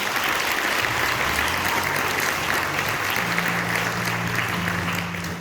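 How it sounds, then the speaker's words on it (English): An audience at a high school end-of-year concert applauds continuously for student musicians, a dense, even wash of many hands clapping that fills the hall and tapers slightly at the close. "we're gonna clap for every single one of them because they deserve it"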